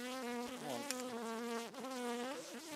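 A tiny honeybee colony living in a bird box hums with a steady, loud, close drone that wavers slightly in pitch, with no voices over it.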